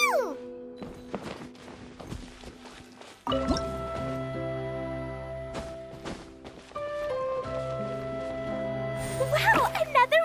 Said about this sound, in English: another water droplet just came out from the wall!